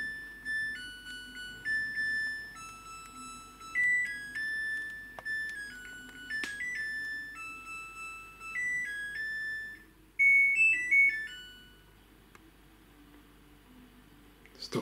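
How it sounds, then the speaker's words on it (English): A Samsung WW10N645RBW smart washing machine plays a bright electronic melody of sustained beeping tones in shifting pitches, repeating several phrases before stopping near the end, over a low background hum. "There's an alarm on it, alerting me."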